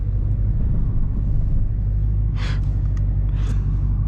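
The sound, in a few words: Dodge Charger RT driving through slushy snow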